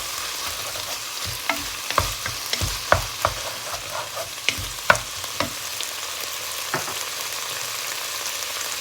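Lemongrass and fermented fish stir-fry in a pan, with a soft continuous sizzle broken by repeated clacking stirs and scrapes of a utensil, close by.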